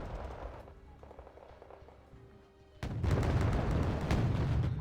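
An L11A5 cannon fires in the war strategy game Wargame Red Dragon: a quieter stretch, then a sudden loud blast that rolls straight into sustained rumbling battle noise.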